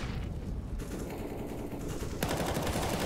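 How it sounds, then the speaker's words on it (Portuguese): Automatic gunfire in the video game CS:GO, a sustained rattling burst of rapid shots that fills the whole stretch and swells louder near the end. "Sentou a rajada na smoke."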